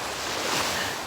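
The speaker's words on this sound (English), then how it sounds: "I started listening to the waves." Ocean waves washing onto a beach, a brief, steady rush of broadband surf noise with a slight swell in the middle and no voices.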